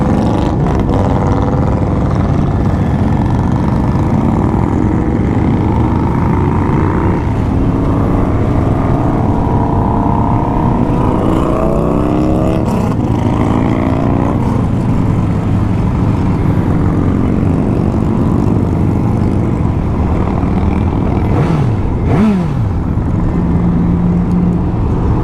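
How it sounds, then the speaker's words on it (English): A Suzuki motorcycle engine on a test ride gives a continuous, loud race-bike drone that rises and falls in pitch as the throttle changes, with wind and road noise underneath. "It doesn't sound like Harley, but it sounds like a race bike."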